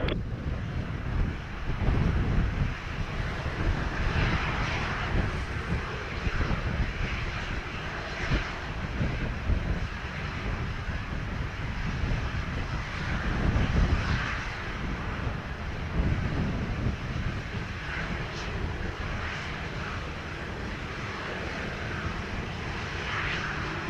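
Sunwing airliner taking off at Sangster airport in Montego Bay, a sustained jet roar that swells and surges in waves over the full length, with wind buffeting the microphone.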